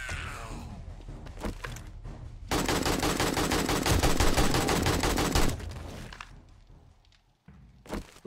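Video game gunfire: scattered single shots and impacts, then a loud, continuous burst of rapid automatic fire lasting about three seconds that tapers off into quieter shots and clatter.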